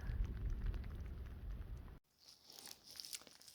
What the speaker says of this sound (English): this is a little more serious rain, or has been